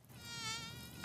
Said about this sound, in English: Oh no, it's a mosquito.